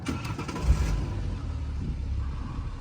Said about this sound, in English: So turn the car on.